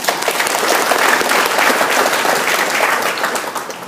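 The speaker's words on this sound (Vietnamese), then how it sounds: "Một tràng pháo tay cho chị ấy." A seminar audience in Saigon gives a woman a round of applause, loud, dense clapping from many hands that holds steady and close for the whole stretch.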